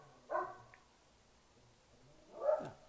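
Dogs bark outside a window, two short distant barks about two seconds apart, faint against a quiet room.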